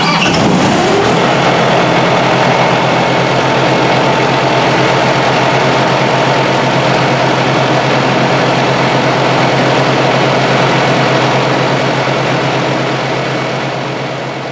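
A reefer trailer refrigeration unit starts up and runs its self-test, roaring to life with a loud diesel engine drone that holds steady and close for the whole stretch, then eases slightly at the end.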